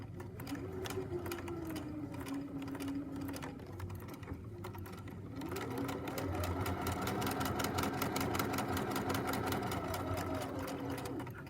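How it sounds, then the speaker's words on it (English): A sewing machine runs in fast, steady bursts while back stitching along the edge of a fabric bookmark, a close mechanical whir and needle patter with a brief pause midway before the stitching resumes. "I'm going to back stitch the edge and then come forward."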